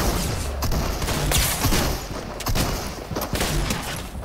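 Rapid bursts of gunfire from a Fortnite match, loud and close, sharp cracks overlapping in irregular volleys throughout.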